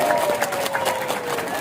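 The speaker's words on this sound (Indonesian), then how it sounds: "Beri tepuk tangan yang meriah buat beliau." A crowd at a university stadium opening ceremony applauds, a busy spread of claps mixed with crowd murmur and a faint steady tone underneath, fairly loud and continuous.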